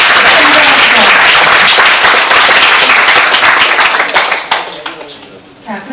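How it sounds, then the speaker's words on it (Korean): A large audience at a Korean memorial ceremony for Ahn Jung-geun marking the 70th anniversary of liberation claps steadily and densely, sustained near and loud before thinning into scattered claps at the end. "수고하신 박피롱 미디어 2 본부장님께 감사의 박수를 전해드리겠습니다"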